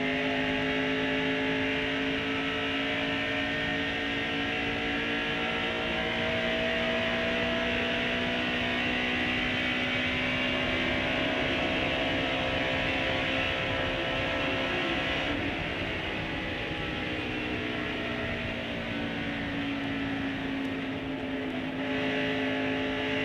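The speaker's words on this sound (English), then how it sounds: "This is the bumper cam on Harry Gant's car" Onboard bumper-camera sound from Harry Gant's stock car during the 1989 NASCAR race at Michigan International Speedway, with Jimmy Spencer's No. 88 Pontiac nearby: a loud, sustained engine roar holding steady at high revs with slight pitch swells, no talk.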